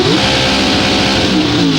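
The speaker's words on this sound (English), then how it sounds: "Set, listen to the revs, they'll start to build." Holden and Pontiac pro stock doorslammer drag cars rev hard on the start line at a 1995 drag meet in Gawler, a loud, continuous engine roar with pitch sweeping up and down across the short burst.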